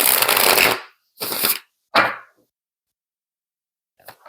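Tarot cards being shuffled, three quick riffling bursts followed by a pause and a faint final flutter, close and clear with no talk.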